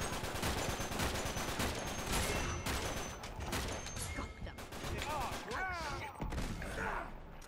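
Gunfire in an Uncharted 3 multiplayer match, dense rapid bursts of shots crackling in quick succession, loud and continuous, with a player talking over the shooting and brief vocal sounds near the end.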